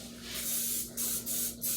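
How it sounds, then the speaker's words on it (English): Cooking spray hissing onto a hot non-stick pan in a kitchen, a loud close airy spray broken into four short bursts with brief gaps, over a faint steady hum. "You want to spray the pan a little bit."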